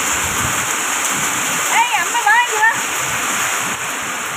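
Heavy rain pours down in strong wind, a dense steady roar of water that fills the whole clip, with a voice briefly heard over it.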